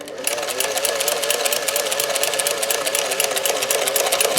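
Singer 431G sewing machine with a zigzagger attachment stitching a decorative pattern, a close steady whirring hum with rapid rhythmic needle clatter throughout.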